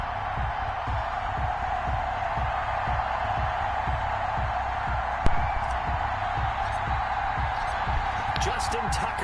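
Stadium crowd in a PS4 NFL football game at M&T Bank Stadium in Baltimore, Ravens against Panthers, a steady broad roar with cheering under a commentator's voice throughout, one sharp thump midway.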